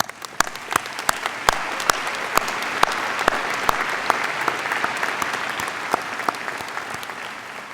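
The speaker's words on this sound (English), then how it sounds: "Please join me in a round of applause for this exceptional group of students." Sustained audience applause fills a graduation diploma ceremony at Stanford Graduate School of Business in 2017, a dense steady wash of clapping punctuated by sharp, loud individual claps close by, with no talking.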